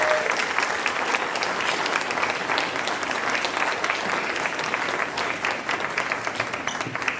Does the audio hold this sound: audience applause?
yes